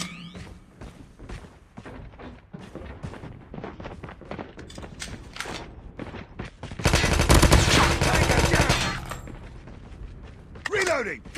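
Gunfire in a Call of Duty Mobile shotgun gunfight, with repeated sharp shots and mechanical clicks of reloading, then a dense, loud burst of sustained firing, amid game announcer voice lines.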